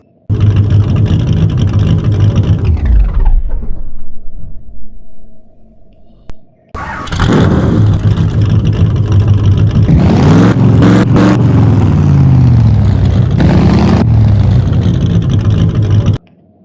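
A cartoon car engine hums steadily, then fades as the vehicle pulls away, a brief quiet follows, and a loud revving drive sound returns and continues to the end.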